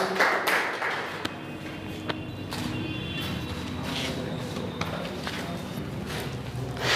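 Applause at a school results celebration at GIS Kathumar Galaxy School, welcoming a Class 10 student: a steady, dense wash of many hands clapping that holds evenly for several seconds, with a few sharper claps standing out.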